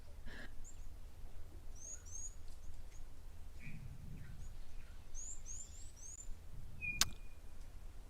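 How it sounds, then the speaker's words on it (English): Soft, high chirps of a chinspot batis and short calls of a southern black tit come and go at a quiet waterhole, some faint and distant, with a brief sharp click near the end. "can hear the chirp what sounds to be a chin spot batis, and then a southern black tit in the background"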